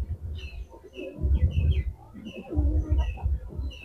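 Pet pigeons coo in two loud, rolling bursts at close range, with high chirps from smaller birds scattered over the top.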